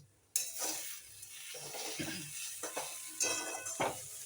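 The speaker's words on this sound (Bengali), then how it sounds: "এবারে ভালো করে মিশিয়ে নিচ্ছে" Chire polao of flattened rice with carrots and beans is stirred and fried in a lightly oiled pan, soft sizzling under repeated spoon scrapes and clinks against the pan, fairly quiet and close.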